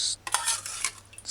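Scraping and stirring in a pan as wing sauce ingredients are mixed over heat, a few bright, quick strokes with short pauses between them, close and alone.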